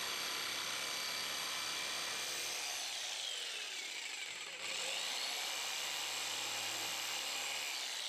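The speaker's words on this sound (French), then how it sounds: "Découpez à la bonne dimension à l'aide de la scie sauteuse." A jigsaw whines steadily through wood, its pitch dipping briefly midway before resuming; no voices.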